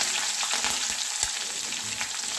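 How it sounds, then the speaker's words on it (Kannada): Mustard seeds, cumin, hing and green chillies sizzle in hot oil, a steady close crackling fry with small pops and a few stirring scrapes, no voices. "ಇವಾಗ ಕಾಯ್ದಿರೋ ಎಣ್ಣೆಗೆ ಸ್ವಲ್ಪ ಸಾಸಿವೆ ಹಾಕ್ಕೊಳ್ಳೋಣ, ಸ್ವಲ್ಪ ಜೀರಿಗೆ ಹಾಕ್ಕೊಳ್ಳೋಣ, ಸ್ವಲ್ಪ ಹಿಂಗು. ಇವಾಗ ಇದಕ್ಕೆ ಹಸಿಮೆಣಸಿನ್ಕಾಯಿ ಹಾಕೋಣ"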